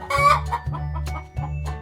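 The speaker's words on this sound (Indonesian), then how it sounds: "Ayam Brahma bahasa Inggrisnya Brahma chicken." A Brahma chicken, a large breed from India, clucks in three loud, close bursts with throaty calls that lean toward crowing, heard alone without speech.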